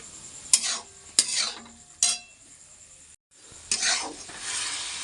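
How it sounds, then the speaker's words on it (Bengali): Leafy greens stir-fried with yardlong beans in a pan, several sharp scraping stirs of a spatula against metal over a steady close sizzle, with a brief pause before a final longer stir. "শাকটা দিয়ে দিলাম হ্যাঁ এবারে এটাকে আমি কষাচ্ছি"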